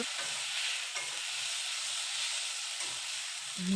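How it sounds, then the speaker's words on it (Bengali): Egg kalia curry is sautéed with a little water and stirred in a pan, making a steady hissing sizzle broken by soft, regular stirring scrapes. The sound is moderately quiet and close. "অল্প অল্প করে নাড়িয়ে চাড়িয়ে কষিয়ে নেব"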